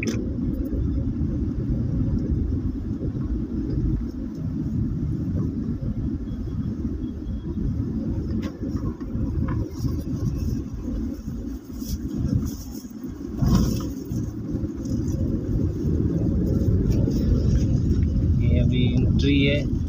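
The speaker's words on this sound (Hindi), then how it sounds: "हमारी गाड़ी पानी से गुजर रही है" A car rolls slowly along a flooded, potholed street in Qasimabad, its engine rumbling low and steady with water sloshing and churning beneath, a continuous close-up drone with no talk heard.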